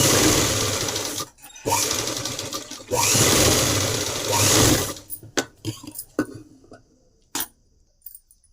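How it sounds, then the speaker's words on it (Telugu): A sewing machine runs in sustained loud bursts, stitching a body frock for a 7–8 year old girl, then gives way to scattered clicks and handling noises as the fabric is adjusted. "అదేవిధంగా ఇంకొక కుట్టు కూడా వేసేసుకోవాలి."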